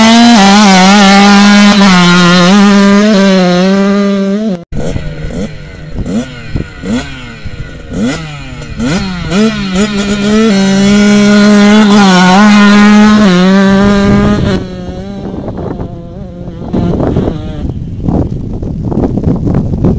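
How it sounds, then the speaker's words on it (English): A motocross dirt bike at high elevation, poorly jetted for the altitude, runs loud and close at a holeshot start, holding a steady drone before a string of sharp rising and falling revs. "And the bike's going to lag out a little bit."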